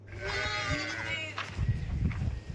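Goats bleating on a farm in Qatar, several drawn-out wavering cries close by in the first second and a half, followed by shuffling, thumping farmyard noise and a few shorter calls.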